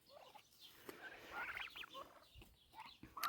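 Turkeys gobble faintly in a grassy farmyard, their burbling calls rising and falling across the few seconds.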